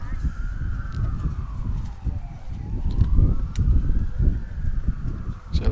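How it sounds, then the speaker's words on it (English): A police car siren wails past an outdoor lawn bowls venue during a men's fours championship, its tone sweeping down and up again at moderate distance, with a few sharp honks. "as the police car goes roaring past the venue."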